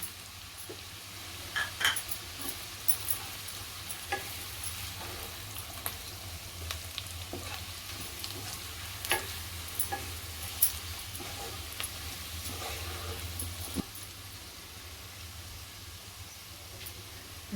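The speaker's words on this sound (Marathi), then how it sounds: "आता मसाला घालते घरगुती कोळी मसाला" Homemade Koli masala fries in a pan for prawn rice, a steady crackling sizzle with scattered sharp pops and occasional spoon scrapes against the metal throughout.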